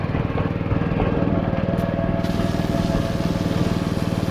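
A small engine on roof-wash pressure equipment runs at a steady, rough throbbing idle, close and loud, with a brief high-pitched hiss partway through.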